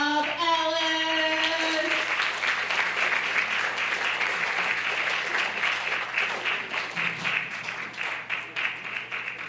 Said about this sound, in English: Let's give a big round of applause for Bob